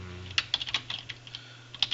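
Typing on a computer keyboard, a quick run of crisp close keystrokes with uneven spacing and brief gaps, alone without talk.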